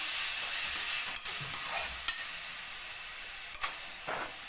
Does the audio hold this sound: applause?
no